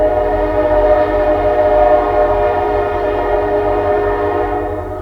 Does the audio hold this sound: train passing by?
yes